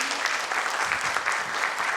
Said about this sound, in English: can we once welcome all with big round of applause?